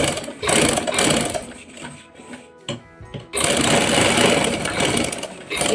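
A sewing machine stitches a collar neck in fast whirring bursts, running steadily, pausing briefly midway, then starting up again loud and close.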